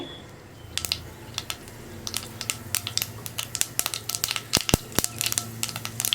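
Sharp, irregular pops and crackles burst in quick succession, growing busier toward the end: a teaspoon of mustard seeds spluttering in hot oil.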